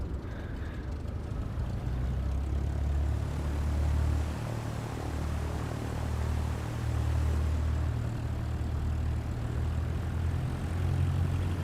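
An airplane taxiing in Microsoft Flight Simulator 2024 at night gives a steady low engine drone with propeller rumble, continuous and fairly loud throughout with no talk.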